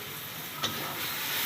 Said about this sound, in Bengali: এবার মশলাটা কষাই নেব।